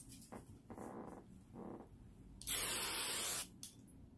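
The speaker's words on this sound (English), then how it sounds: "I just use a little bit of hairspray to kind of shape where I want the hair" One short burst of hairspray, about a second long, is sprayed onto hair while shaping it for a flat iron curl, a bright close hiss among quieter handling sounds.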